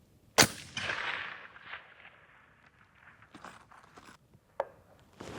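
A .25 Creedmoor rifle fires one sharp, loud shot near the start, followed by faint shuffling and handling noises and a second, smaller crack later on.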